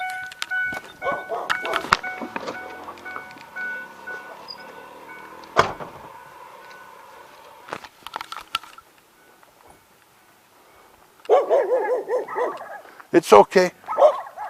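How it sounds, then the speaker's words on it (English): A dog barks in an abandoned neighborhood: scattered sharp barks early on, then a louder burst of rapid barking near the end, with a person talking briefly over outdoor background noise. "Oh, I started the dog bark."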